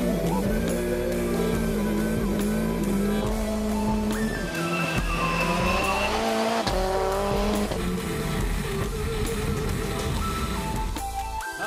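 A rallycross race car drives during warm-up at the Rallycross RX of France, its engine a loud continuous roar with shifting pitch as it revs, changes gear and works through corners, recorded close and without talk.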